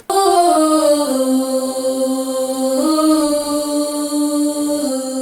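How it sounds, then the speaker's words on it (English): A sustained, layered crowd-vocal choir effect made in FL Studio, many voices blended on a steady chord that shifts pitch once midway, loud and continuous. "how to create this choir effect using one particular"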